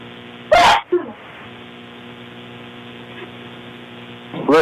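A single sharp sneeze rings out in a committee meeting room over a steady mains hum, followed by a second burst near the end.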